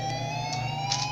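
An EOW 612 siren under test sounds a steady, sustained wail with stacked harmonic tones, continuous and loud throughout, with no voices present.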